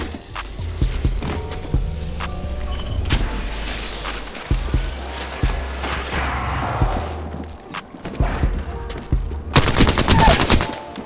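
Gunfire in the video game Apex Legends: rapid automatic bursts and single shots crackle loudly throughout, with dense firefights, impacts and a heavy closing volley, no talk.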